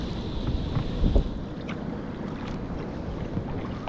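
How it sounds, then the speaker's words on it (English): Sea washing over a reef in Sheephaven Bay, Donegal, heard from a kayak: a continuous broad wash of surf, close and fairly loud, with wind buffeting the microphone and a few brief splashes early on. "Sea just washing over another reef."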